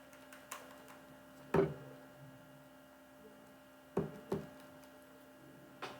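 A few sharp plastic calculator button clicks, single and in a quick pair, spaced irregularly over a steady low electrical hum in a quiet room.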